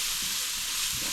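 Garlic and ginger paste fries in a pan for a goat curry, giving a loud, steady, close sizzle and hiss that runs throughout with no talking.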